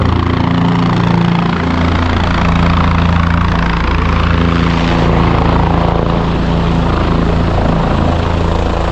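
A helicopter drones steadily throughout near a helipad on the Kedarnath pilgrimage route, its deep rotor thump and engine hum loud and constant, with no voices.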